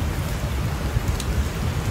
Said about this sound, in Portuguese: Chove forte, torrencialmente aqui em Joaçaba.